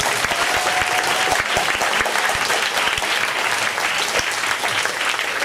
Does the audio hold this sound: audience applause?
yes